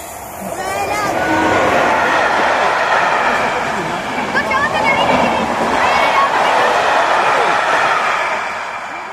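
Train running steadily for several seconds, a continuous rumbling rush of wheels on rails with faint clatter, heard from inside with people talking over it.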